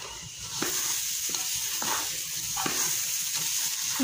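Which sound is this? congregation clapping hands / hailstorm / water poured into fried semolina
water poured into fried semolina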